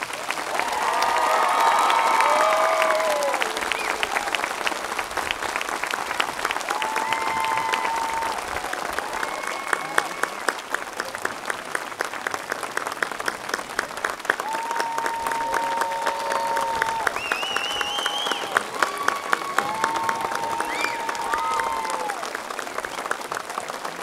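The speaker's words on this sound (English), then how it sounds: "Let's give these ladies a round of applause." Sustained applause fills a graduation commencement ceremony as a crowd claps steadily and evenly, with scattered cheers and a few voices rising over the clapping throughout.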